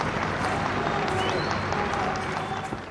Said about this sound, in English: Once the band stopped, there was a ripple of applause.